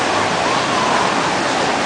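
Rushing water from a slide at a water park pours in a dense, loud, steady hiss of splashing, close and continuous with no voices over it.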